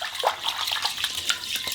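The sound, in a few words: rice swirled in water with fingers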